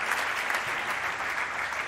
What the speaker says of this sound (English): let's have a round of applause for the FIM president who's going to join us